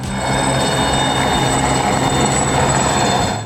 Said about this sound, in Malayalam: ഒരു ഹെലികോപ്റ്റർ പോയി കഴിഞ്ഞപ്പോൾ രണ്ട് ഹെലികോപ്റ്ററുകൾ മുട്ടി ഉരുമി പറന്നു വന്നു